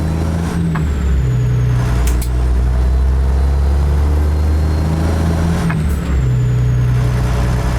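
Air hissing on a truck in American Truck Simulator as the trailer lift axles are raised, with two sharp bursts over a steady low engine rumble and no talk.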